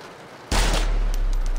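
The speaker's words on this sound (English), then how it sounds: "Left click fires the weapon." A blaster weapon in a video game fires once, a sudden loud blast that holds into a sustained low rumble for about a second.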